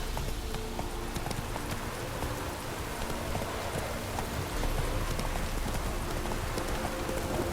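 A horse gallops in The Witcher 3 video game, with rapid continuous hoofbeats up close over a rain-like hiss of ambience.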